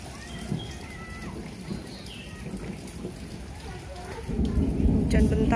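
Heavy rain pours steadily over a housing estate in Bekasi, Indonesia, with low rumbling thunder beneath. The downpour grows noticeably louder and denser near the end.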